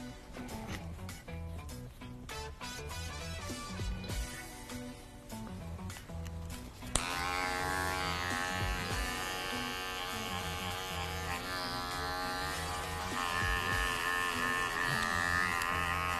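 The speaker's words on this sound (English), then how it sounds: "Now I'm just going to refine the haircut using my number 1 on my adjustable clipper." Adjustable electric hair clipper fitted with a number 1 guard, trimming a woman's curly faux hawk: a close, steady motorized buzz that turns on abruptly partway through and then hums continuously, no speech.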